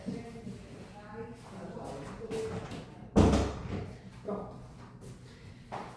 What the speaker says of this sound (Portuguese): Deixa eu fechar a porta aqui, peraí